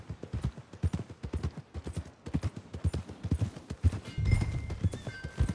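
Horse hooves clip-clopping at a steady walking rhythm in Red Dead Redemption 2, close and fairly loud, with a horse whinny and some rustling partway through.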